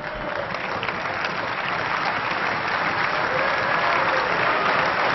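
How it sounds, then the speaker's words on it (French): Sustained applause fills the European Parliament chamber, dense and loud, as many hands clap steadily for several seconds without breaking. "That's the last time you are applauding here."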